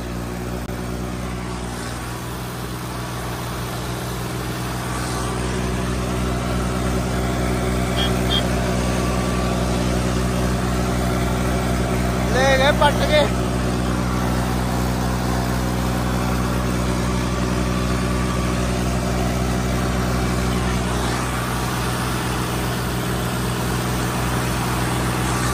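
A tractor engine runs steadily, a low, even rumble with a mid-range hum that rises slightly and holds for a long stretch, with a brief clattering burst partway through.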